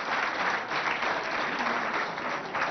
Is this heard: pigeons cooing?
no